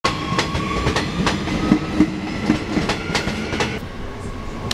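A passenger train rolls along the rails with steady rumble and recurring clickety-clack wheel beats, heard from on board and close, continuous throughout with no talking.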